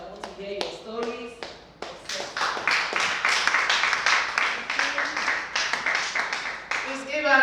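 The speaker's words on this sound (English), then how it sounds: "Please give her another round of applause." An audience claps at a religious motivational gathering, the applause building from scattered claps into a dense, steady round, with a voice speaking over it at the start and end.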